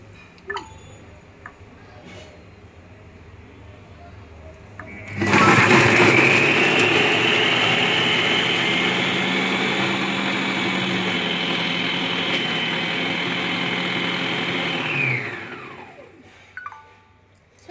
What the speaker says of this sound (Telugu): అవన్నీ వేసేసిన తర్వాత మళ్ళీ క్యాప్ స్టార్ట్ నొక్కితే అప్పుడు ఇది వాటంతట అవే కట్ చేసుకుంటూ ఉంటుంది